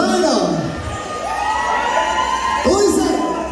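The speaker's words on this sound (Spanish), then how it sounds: "Yo tengo que hacer un aplauso fuerte." Crowd at a live acoustic band performance cheering and whooping loudly, with shouts and excited voices rising over a steady roar throughout.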